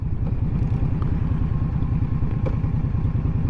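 A 2023 Indian Scout Rogue motorcycle under way, its engine a steady, loud mid-low rumble with wind and road noise throughout, no voices.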